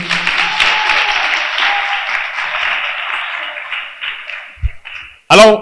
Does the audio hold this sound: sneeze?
no